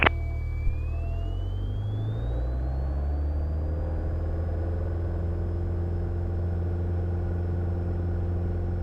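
A light aircraft's engine runs up for takeoff from runway 12 and climbs out, a steady loud droning rumble that rises in pitch over the first few seconds and then holds evenly, close and continuous with no talk.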